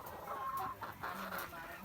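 Chickens clucking close by on a small farm where eggs are being collected, a few quick soft clucks over faint background noise.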